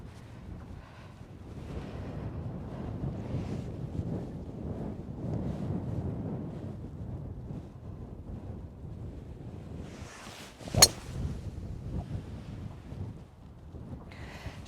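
Wind gusts roar across an exposed seaside golf course at Nefyn in Wales, a broad, rumbling buffeting against the microphone with one brief sharp knock partway through.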